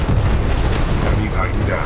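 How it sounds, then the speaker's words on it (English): Titan weapons in Titanfall 2 fire at a locked target, producing a dense, continuous roar of heavy blasts and booms that fills the whole moment. "Target's locked. Firing."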